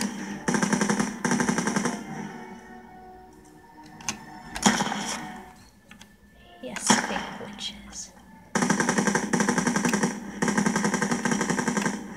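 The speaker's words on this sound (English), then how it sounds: "you can shoot up a few bullets if you want" Rapid automatic gunfire from a WW2 Call of Duty video game rattles in loud bursts at the start and again near the end, with quieter scattered shots and game noises between.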